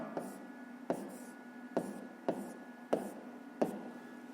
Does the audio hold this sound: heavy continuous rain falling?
no